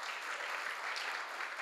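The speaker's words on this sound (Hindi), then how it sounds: "जोरदार तालियां बजाओ" Audience clapping at a gathering, a dense continuous patter of many hands at moderate distance, steady and fairly faint, with no voices over it.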